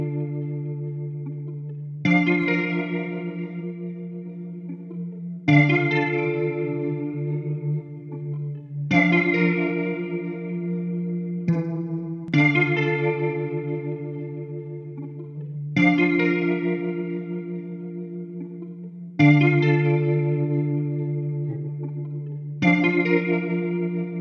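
Repeated sustained synth chords pass through the Solaris Sound SWR stereo width plugin, with a wide, chorused, slightly distorted tone, each chord struck about every three seconds and ringing out.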